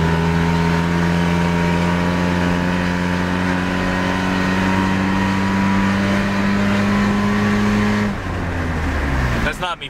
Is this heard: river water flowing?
no